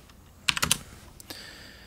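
A few quick keystrokes clatter on a computer keyboard, a tight cluster of close taps followed by two lighter presses in a quiet room.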